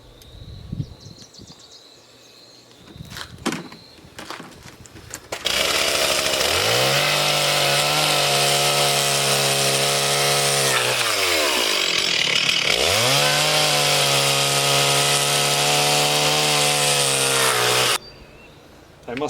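A dull chainsaw revs up and cuts through wood on a farm, roaring loud and steady for about twelve seconds with a dip in pitch midway, after some quieter handling noises at the start.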